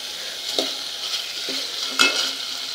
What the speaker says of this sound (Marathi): कढीपत्त्याचा पण एकदम छान वास सुटला आहे. लगेच वास येतो त्याचा, तो वास येईपर्यंतच परतायचा आहे.